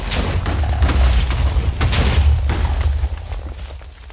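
A video-game explosion blowing up a protected area and its blocks, a loud sustained booming blast with heavy low rumble and crackling bursts, rolling on for several seconds before easing off.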